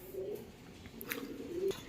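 Domestic pigeons coo softly in cages at a pigeon farm, a few low, throaty calls rising and falling at close range over a quiet background.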